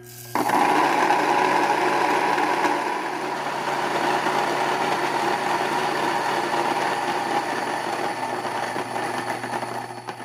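A countertop grain mill grinds wheat berries into flour, a loud, steady mechanical whirring hum that starts abruptly and runs continuously without talk.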